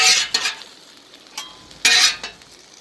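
Potatoes pushed across a hot flat top grill, a few short scraping sizzles in separate bursts, the loudest near the end, with quiet gaps between.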